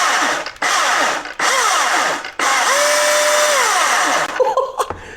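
A Milwaukee battery-powered electric chainsaw revs in several loud, close bursts of high whining buzz, cutting off briefly between runs before winding down at the end.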